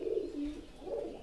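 Soft pigeon cooing at a pigeon farm, a couple of low murmuring coos close by and faint, with no other sounds over them.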